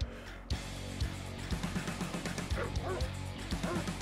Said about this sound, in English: Oh shit, dogs.